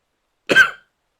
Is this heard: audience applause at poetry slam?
no